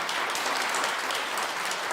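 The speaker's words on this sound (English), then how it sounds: "Please give our singers a round of applause tonight." An audience gives a full, steady round of applause for the singers at a live singing event, and the dense clapping holds at an even, fairly loud level throughout.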